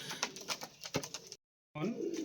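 Pigeons coo and flutter nearby in a steady murmur, cut by a brief silence before the cooing resumes.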